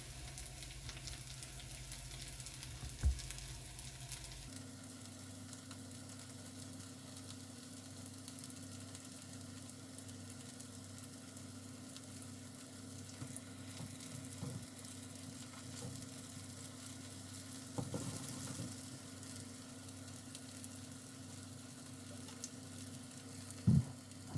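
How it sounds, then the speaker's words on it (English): Soya mince meatballs sizzle and crackle steadily in a frying pan, a constant soft hiss with occasional louder pops. "Got them sizzling away."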